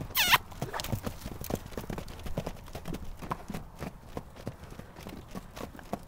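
A horse canters, its hoofbeats thudding in a steady rolling rhythm from near to moderate distance, with a brief louder clatter at the start and no talking over it.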